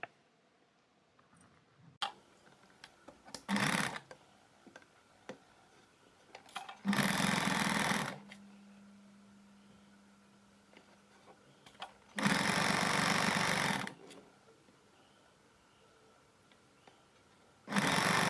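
A sewing machine stitches dori piping onto folded yellow fabric in loud bursts of a few seconds each, with quiet pauses, small clicks and handling sounds between the runs and a low hum in one gap.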